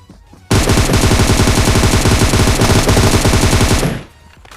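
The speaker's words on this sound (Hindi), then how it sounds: "अब ये भैया जी फायरिंग तो देते हैं" A sustained automatic gunfire burst in the PUBG Mobile battle royale game, loud and rapid with evenly spaced shots lasting about three and a half seconds before cutting off.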